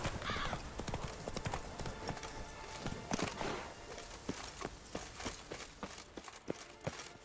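Roach the horse's hooves clip-clop steadily in The Witcher 3, a regular series of crisp hoofbeats at a walking-to-trotting pace, moderately close and alone without talk.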